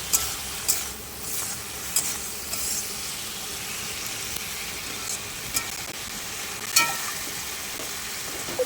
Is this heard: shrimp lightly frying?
yes